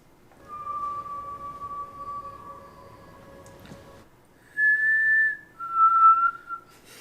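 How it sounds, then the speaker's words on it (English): A person whistles a long steady note, then two short, higher tones after a pause, nearby and clear with no talking. "The whistle. The whistle."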